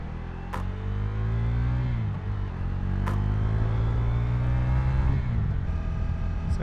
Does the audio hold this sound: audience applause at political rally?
no